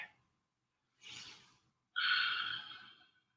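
Two breathy exhalations during a floor recovery in a cardio workout: a softer breath out, then a stronger, longer sigh-like exhale about a second later, close and alone with no talk.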